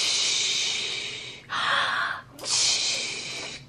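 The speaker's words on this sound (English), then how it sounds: "Those yoga breaths are working." A child takes deep yoga breaths, three long, loud, breathy exhalations and inhalations close to the microphone, alone without talk.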